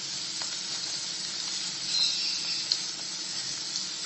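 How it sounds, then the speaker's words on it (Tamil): Paneer cubes roasting in a pan on medium flame give a steady, even sizzle with a constant bright hiss and no pauses, close by and fairly loud, with no talk over it. "மீடியம் ஃப்ளேமில் வச்சு லேசாக பரட்டி வச்சுருங்க"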